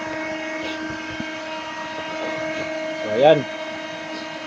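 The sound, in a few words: steam mushroom chamber burner test fire roaring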